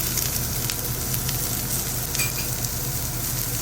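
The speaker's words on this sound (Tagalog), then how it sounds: "Isahin hanggang maging translucent. Hanggang lumambot yung sibuyas." Two large red onions sautéing in a pan, a steady, close sizzle and crackle of frying that holds evenly throughout with no voice over it.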